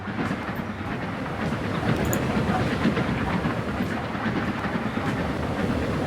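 A Caledonian Railway train runs in Transport Fever 2, giving a steady rolling rumble with faint rhythmic clicks throughout and no talk.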